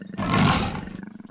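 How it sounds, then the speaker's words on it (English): A single deep leopard roar, close and loud, swelling quickly and then fading into low rasping breaths. "Like the other big cats, they have a great roar."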